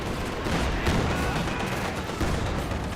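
Gunfire crackles continuously in a Company of Heroes 2 battle as Grenadiers engage guards, a dense, steady wash of shots and combat noise with no pauses.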